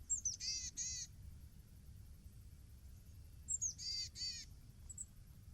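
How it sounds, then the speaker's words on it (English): Boreal chickadees give two bursts of high, buzzy calls, each a few quick notes near the start and again midway, over a low, steady outdoor rumble. "there are a lot of boreal chickadees here"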